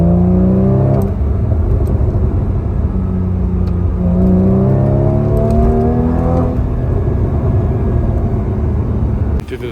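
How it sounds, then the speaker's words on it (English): A Porsche 981 fitted with a Becker S type exhaust idles and revs as it warms up, a loud deep burble with several rising revs and falling pitch sweeps, close to the microphone. "as it warms up, it just sounds a lot better. It burbles a lot."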